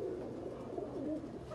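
Breeder pigeons coo softly in a steady low murmur, several birds overlapping at a distance with no voices.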